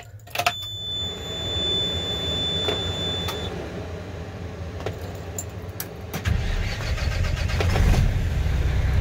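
A pre-emissions Mack Granite truck that had sat for a few days cranks and fires up after a few seconds of quiet, a brief jingle early on, settling into a deep, rumbling idle close by.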